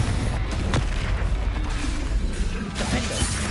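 Hogwarts Legacy spellcasting, with Confringo and Bombarda blasts landing as a dense, continuous wall of booming explosions and crashing impacts that stays loud throughout, with no pauses between the bursts.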